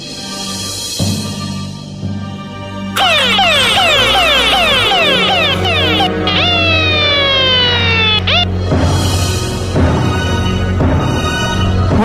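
A loud police car siren wails with rising and falling sweeps, switches to faster yelping cycles, then returns to a slower wail, heard up close and alone.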